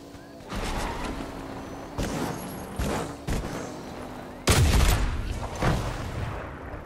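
Gunshots ring out in Fortnite, several sharp bursts at irregular intervals with one heavier blast near the end, over steady engine-like game noise.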